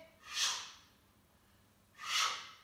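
Two slow, audible breaths during a gentle seated stretching routine for seniors, one around the start and another a second and a half later, each a soft airy whoosh close to the microphone.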